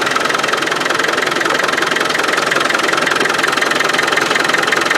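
Land Rover 300Tdi diesel engine with a leaking injector pump keeps running after the stop solenoid wire is removed, a loud steady clattering idle filling the whole stretch with no pauses.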